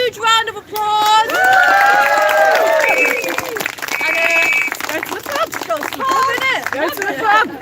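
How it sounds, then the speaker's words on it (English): A crowd at a Halloween speakers' event claps loudly and cheers, with high whoops and shouted voices rising over the applause and people calling out throughout. "Give yourselves a huge round of applause."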